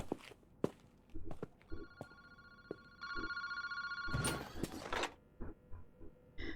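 An electronic telephone ring sounds from a phone booth at night in the video game Paranormasight, steady tonal ringing lasting a few seconds amid footsteps and game noises, fairly close and clear.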